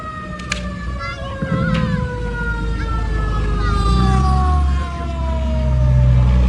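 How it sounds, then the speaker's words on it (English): Fire truck sirens wail and sweep continuously, fairly loud, over rumbling traffic noise, with a few short horn blasts near the start. "sirens in the distance, firefighters finally arrived, racing up the hill to take control."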